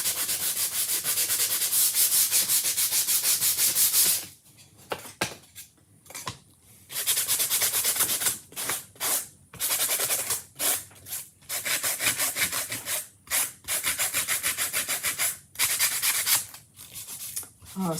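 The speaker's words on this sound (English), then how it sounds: "You can sand it too before you paint them, but I feel like you're still going to have to sand them." Craft pieces being sanded by hand before painting, a steady scratchy rubbing in repeated strokes with short pauses between bursts, close and fairly loud with no talk over it.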